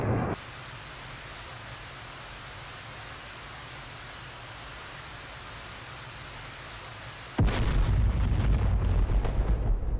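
Target explosion in the DCS F/A-18 Hornet flight simulator, a steady broad cockpit roar broken by a sudden loud, rumbling blast that rolls on to the end.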